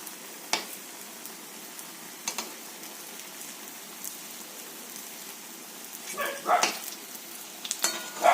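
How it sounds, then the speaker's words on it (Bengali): Raw pea fritters frying in hot oil in a wok give a steady, close sizzle throughout, with a few sharper crackles and spatters near the end. "আমি কড়াইয়ে কাঁচা কলাইয়ের বড়াগুলো করে নিচ্ছি"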